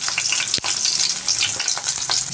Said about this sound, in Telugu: పచ్చిమిర్చి వేసాక బాగా వేగనివ్వాలి